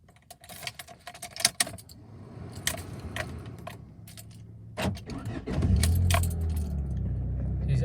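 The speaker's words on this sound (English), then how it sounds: "Okay, so I'm gonna start the car." A 1997 Honda Accord LX, recently serviced for low idle RPM, started up: keys jangle and clink in the ignition, then the starter cranks and the engine catches into a steady low idle, close by.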